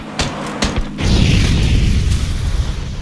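Explosion in the video game PUBG: two or three sharp cracks followed by a heavy booming blast that rolls on into a long, dense rumble, loud and close.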